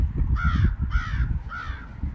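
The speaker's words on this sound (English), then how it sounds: "Oh, crow." A crow caws three times in an evenly spaced series, harsh nasal calls standing clearly above a low rumbling outdoor background on a cold day.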